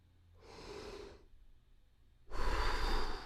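Slow breaths in and out during a musician's breathing exercise, first a soft airy breath, then after a pause a louder, fuller rush of air close to the mic.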